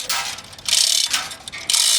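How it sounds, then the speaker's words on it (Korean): A pulley rig lifts a cable car's nearly 6 cm thick high-strength steel wire during maintenance. It gives about four loud, close bursts of clicking, ratcheting mechanical noise separated by brief pauses. "도르래까지 설치해 뭔가를 들어 올리려는 모양인데요."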